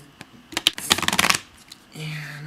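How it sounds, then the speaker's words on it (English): A deck of playing cards being shuffled close up, a quick burst of riffling flutter followed by a brief bridge-like snap, with faint room sound and a low hum afterward. "I'm just going to do the deck of cards here"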